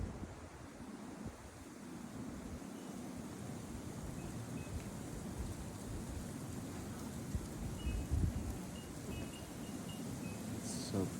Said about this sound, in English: It's so crazy because the gust will start far away and you can hear it